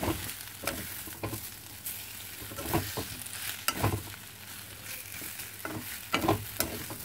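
Spices frying in a pan for a Mithila-style potato curry, a steady sizzle with intermittent scraping and stirring strokes, close and fairly loud with no talking.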